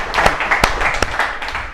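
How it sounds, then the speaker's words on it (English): An audience breaks into applause, a mix of scattered, distinct claps and a softer patter over a short stretch. "So round of applause."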